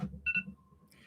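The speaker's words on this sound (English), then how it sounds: "That is my alarm to get to writing." A short electronic alarm chirps twice in quick succession at a moderate level, followed by a faint sustained tone, with low background rumble.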